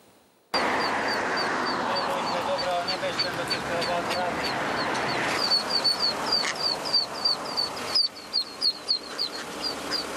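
Six ducklings stuck in a drain beside a busy four-lane road peep in a rapid, high-pitched chorus over a steady background rush, joined later by a few louder adult duck quacks.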